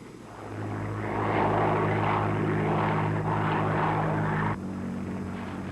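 A propeller airplane in flight: a loud, steady engine drone with a droning buzz that holds constant throughout, then dips slightly just before the end, with no voices.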